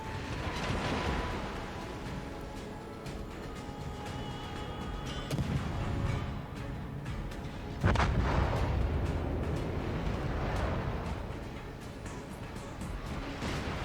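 Video game gunfire with heavy cannon-like thuds, repeated booming shots and rumbling blasts spread across a steady drone of engine and battle noise, moderately loud throughout.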